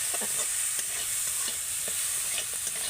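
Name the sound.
stirring spice mixture in a pan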